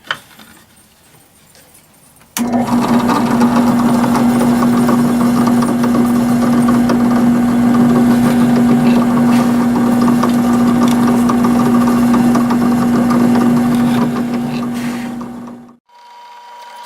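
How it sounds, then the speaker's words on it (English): A power drill boring holes in a small leather pouch for a Buck 119 knife sheath in a workshop, one continuous steady motor whine lasting about thirteen seconds that starts and stops abruptly after brief quiet. "I moved out here to the shop to drill the holes in this little pouch."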